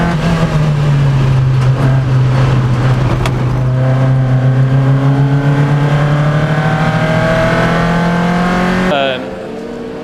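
Racing cars, among them a Lotus Elise, a Honda Civic Type R and a Mini, lap the Anglesey circuit in a roadsports race. A loud sustained engine drone rises steadily in pitch under commentary, then cuts off abruptly near the end.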